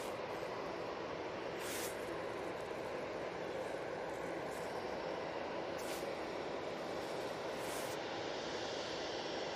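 A NetJets Cessna Citation XLS business jet passes over Manchester Airport with a constant, moderately distant engine rumble, broken by a few brief hissing clicks.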